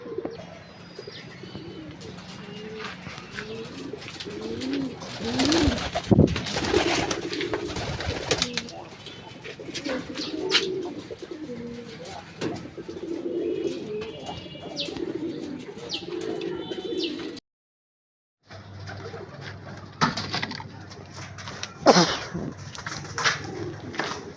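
Pigeons coo repeatedly nearby in low, throaty phrases, with occasional chirps and rustling, then a brief silent gap before the cooing resumes.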